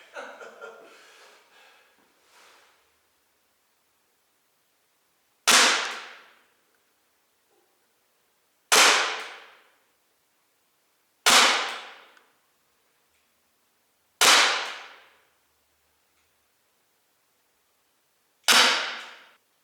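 Sig P365 CO2-powered .177 BB pistol fires five sharp, isolated snaps spaced a few seconds apart, each decaying quickly, preceded by faint rustling.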